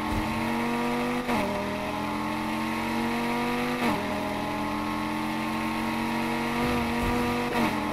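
Race car engine in the Need for Speed Heat video game holding a loud, steady high-speed drone with whining harmonics that gradually climb, broken by a few brief dips as gears shift, with no talking.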